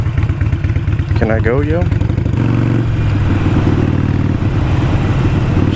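A Harley-Davidson Iron 883 motorcycle is ridden, and its engine rumbles loudly and steadily the whole time. A rider speaks briefly over the engine noise.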